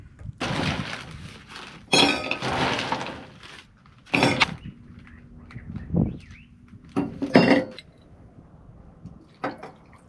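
Ice cubes clink and rattle into lowball glasses while drinks are mixed at a lakeside campsite, coming as scattered bright clatters and knocks with quiet pauses between them.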